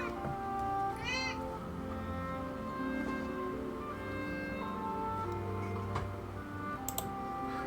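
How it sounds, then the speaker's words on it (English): A pet cat gives one short, rising meow just after falling over, heard faintly over steady video game music with soft ticking, and no one speaks. "That was my cat just falling over."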